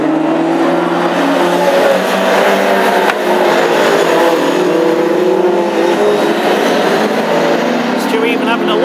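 Classic hot rods race flat out in the Irish GP final at Tipperary, a continuous dense roar of engines sweeping past, with a commentator talking steadily over the racing noise.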